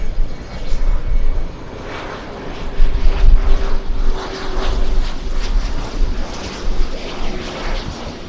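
A large airliner arriving at LAX roars past, loud and rumbling with buffeting wind, its engine noise swelling and fading over several seconds.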